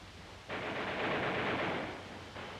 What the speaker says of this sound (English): gunfire shattered the countryside